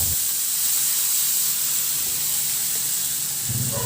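Sliced onions sautéing in a hot pan give a steady, even hiss and sizzle that holds at the same level from start to finish with no pauses, up close and without any voices.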